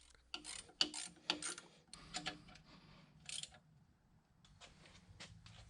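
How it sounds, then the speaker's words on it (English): Bolts on the motor base of a K&T 2HL milling machine being tightened down with a wrench, giving scattered metallic ratcheting clicks and scrapes in short bursts, fairly quiet, with no talking. "I can go around now and tighten them all down"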